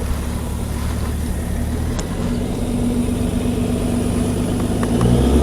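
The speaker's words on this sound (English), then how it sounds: "Race car." A race car engine revs close by with a steady, rough mid-range drone that swells slightly louder toward the end, with no talking over it.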